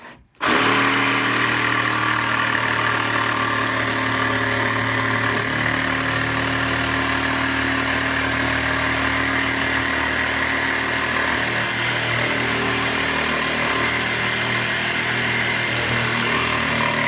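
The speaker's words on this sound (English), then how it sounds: "finish off the corners with the little jigsaw" A small jigsaw cutting a workbench board, a loud steady buzzing drone that starts abruptly and runs unbroken at close range.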